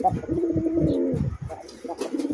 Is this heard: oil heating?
no